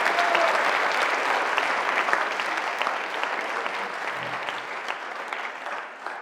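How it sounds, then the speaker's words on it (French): An audience at the final of a law-school pleading competition at Assas applauds with dense, steady clapping that runs the whole time and fades slightly at the end. "J'ai vu que vous m'avez applaudi"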